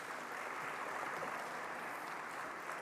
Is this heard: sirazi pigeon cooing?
no